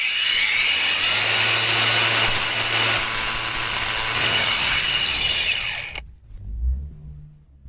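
A power tool grinds a flat spot onto a metal shaft during a pressure washer repair, a loud, continuous abrasive whine lasting about six seconds before it cuts off abruptly.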